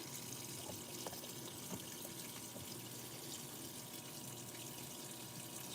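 A Whirlpool direct drive washing machine fills with water during a wash cycle on a load of colored clothes, giving a steady, close rushing and trickling of water that runs unbroken throughout.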